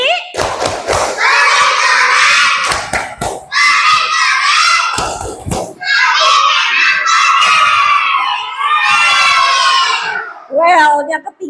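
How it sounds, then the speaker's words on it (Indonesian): A class of children loudly chants a rhythmic 'tepuk keren' clapping cheer, their bright, close voices rising in bursts over repeated hand claps and thumps. "Tepuk keren buat Aji."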